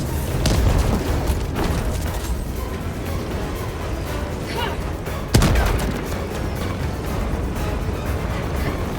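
Grenade blast in the video game Helldivers 2, a single sharp explosion cutting through dense, continuous battle rumble and distant gunfire, with faint voices mixed in.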